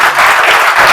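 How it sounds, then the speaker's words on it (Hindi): Classroom students in an IIT JEE coaching batch clap for themselves during an overnight first-day class, producing a dense, steady burst of applause that fills the whole short moment with no talking. "एक बार अपने लिए ताली बजा लीजिए आप लोग"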